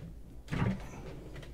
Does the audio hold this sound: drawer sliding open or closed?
yes